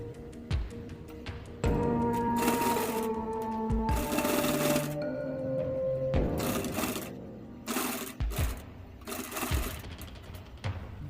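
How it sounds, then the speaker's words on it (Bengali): A sewing machine runs a line of stitching down the middle of a fabric sleeve piece, its rapid mechanical whir coming in several loud bursts separated by brief pauses and clicks. "এবার আমি মাঝ বরাবর একটা সেলাই দিয়ে নেব।"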